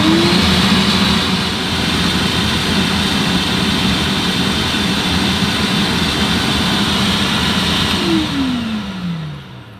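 The small motor pump of a Bissell BarkBath QT 2nd Gen portable dog bath runs with a steady whirring drone, then winds down in pitch and fades near the end.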